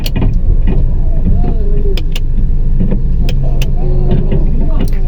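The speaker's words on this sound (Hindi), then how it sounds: "ये मोटर्स की ऑन और बंद हो रही है" Electric parking brake motors on a 2017-2025 Honda Civic whir on and off in short repeated bursts, close and loud over a steady engine hum, with someone talking over them.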